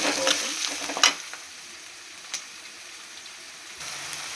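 Onion, ginger-garlic paste, curry leaves and rock salt sautéing in a pan for a chicken curry, a soft steady sizzle with a couple of light clinks early on.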